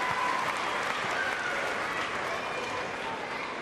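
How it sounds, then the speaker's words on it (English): Crowd applauding at a Commonwealth Games badminton mixed team quarterfinal between Malaysia and Scotland, sustained dense clapping from a large arena audience that stays loud and even throughout. "the crowd trying to lift Gilmore as she goes back to her place, led by, of course, the Scottish bench"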